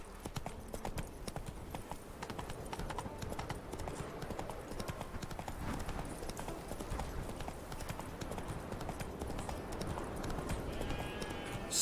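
Horse hooves clip-clopping at a gallop in The Witcher 3, a steady rapid rhythm running throughout over a busy game soundscape, loud and close.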